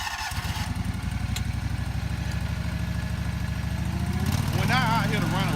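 A golf greens mower engine cranks and settles into a steady, close, throbbing idle with a low repetitive chug, rising slightly near the end as people talk over it.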